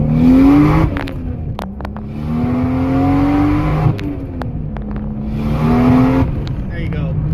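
Toyota Supra MK3 with a 2JZ engine pulling hard through gears, a loud in-car drone rising in pitch with short dips at shifts and an uneven surge where the M-pact clutch slips, with brief talk over it.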